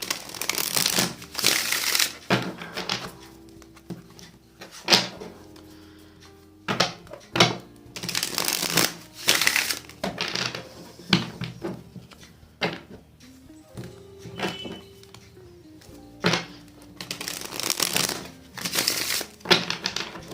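Tarot cards being shuffled by hand: a series of quick papery riffling bursts and soft slaps, close and moderately loud, with short pauses between rounds and no talk.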